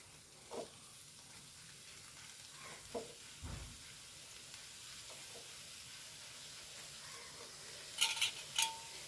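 Raw plantain pieces frying in a pan, with a soft steady sizzle under faint scrapes of a spoon stirring and a few brief clinks toward the end.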